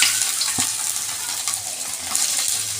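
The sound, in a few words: chopped garlic and ginger frying in oil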